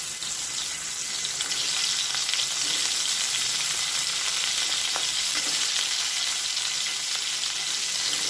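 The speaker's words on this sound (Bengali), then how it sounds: "হালকা করে একবার ফ্রাই করে নেব।" Crabs sizzle and fry in a small amount of mustard oil in a pan, a continuous bright hiss with occasional stirring clatter, close and steady with no talking.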